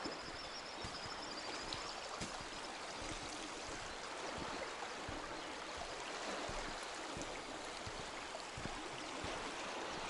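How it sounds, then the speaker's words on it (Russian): The Lymva river rushes under a forest bridge with a strong current, giving a constant, even wash of flowing water heard from close by. "Это река Лымба, ребят, кто не знает."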